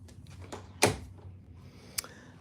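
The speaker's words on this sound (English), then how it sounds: "Okay, so let's close that door." A door in a sewing room swinging shut, a single sharp thud close by followed by a fainter click a moment later, with quiet room sound around it.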